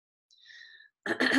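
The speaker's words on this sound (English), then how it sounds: "you don't want to clear your throat much like that" A brief breathy hiss followed by a short, loud, harsh throat clearing, close to the listener.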